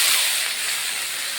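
Spice paste hits onions already fried red in a pan for a goat tripe curry with potato and pointed gourd, giving a steady, fairly loud hiss that fades slightly after the first moment, with no talking.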